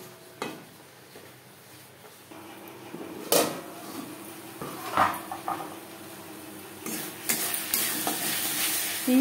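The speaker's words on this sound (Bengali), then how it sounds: "মশলা বেশ ভালো করে কষিয়ে নেব" Spice paste with a little water being stirred and fried over low to medium flame for a pabda fish curry, soft sizzling broken by scattered spoon scrapes and clinks against the pan.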